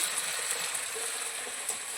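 A pan of curry cooking on a stove, with a steady soft sizzle and bubbling hiss throughout and no voices.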